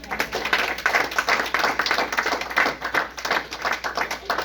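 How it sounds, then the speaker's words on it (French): A church congregation claps and applauds during a Sunday service, a steady dense patter of many hands rising and falling in waves without any talk over it. "Est-ce que l'église peut acclamer le Seigneur?"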